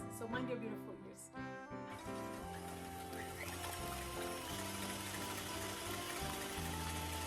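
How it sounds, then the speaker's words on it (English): Twelve egg whites being whisked in a bowl for Portuguese molotof make a close, steady whirring rush that settles into a continuous churning hiss. "we're going to start whisking the eggs"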